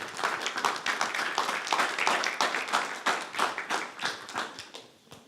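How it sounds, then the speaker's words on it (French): An audience at a regional sales-excellence competition final applauds loudly for a contestant, a dense wash of many hands clapping steadily throughout, with a few sharper individual claps standing out near the end. "on applaudit Lorraine très fort"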